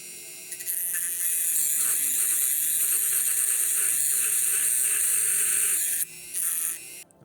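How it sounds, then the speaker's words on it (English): A hacksaw cuts through metal during a knife angle guide modification, giving a steady, close rasping grind that runs almost unbroken for about six seconds, then pauses briefly before a short final burst of strokes. "I'm gonna go hacksaw this."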